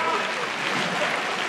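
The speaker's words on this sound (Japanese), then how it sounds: "今一度盛大な拍手をお願いします" Steady audience applause fills a kickboxing event hall after a RISE 173 bout, a dense continuous wash of many hands clapping at an even level for the short stretch.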